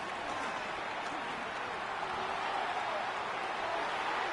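Broad, steady crowd applause fills a stadium during a Bills at Dolphins football game after a defensive stop, a dense continuous wash of clapping and cheering heard from a distance with faint voices beneath.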